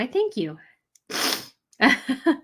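A single sharp, breathy sneeze bursts out between a woman's short spoken phrases, close and fairly loud, with talk resuming right after.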